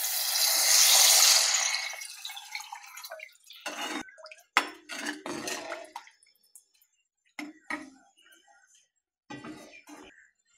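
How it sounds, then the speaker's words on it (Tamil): Water is poured into a pot of horse gram rasam, a brief rushing splash followed by scattered small drips and clinks of the pan. "தண்ணி உங்களுக்கு எவ்வளோ தேவையோ பார்த்துட்டு ஊற்றிக்கோங்க."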